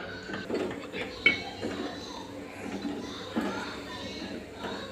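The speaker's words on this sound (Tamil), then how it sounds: "இது நல்லா ஒன்று போல் கிளறிடுங்கம்மா" A spoon stirring semiya and sugar in a pot for payasam, scraping and clinking against metal in irregular strokes, moderately close, with a voice talking over it and a child faintly audible.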